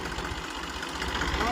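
A tractor engine runs at idle on a farm, a steady low throbbing rumble with a knocking pulse, close by and moderately loud, with voices over it.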